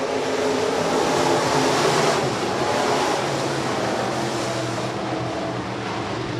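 USRA B Modified race cars at speedway, a dense continuous roar of many engines circling at racing speed, loud and broadband with little variation, no talk.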